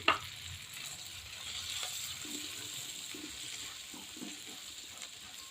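Shredded cabbage and carrot frying in a pan for vegetable noodles make a soft, steady sizzle with occasional faint stirring scrapes. The sound is quiet and continuous, with no talking.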